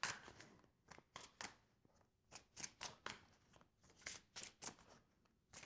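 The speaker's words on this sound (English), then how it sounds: "Let's pull some more cards on this, okay?" Tarot cards from the New Vision Tarot deck being pulled and shuffled, a close, quiet series of papery slides and crisp flicks in uneven bursts with short pauses between.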